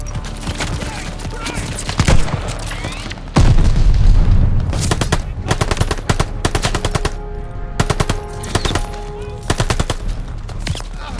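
Machine-gun fire in the World War II shooter Call of Duty: Vanguard, heard as close, loud rapid bursts mixed with heavier booms and rumbling explosions, broken by short pauses.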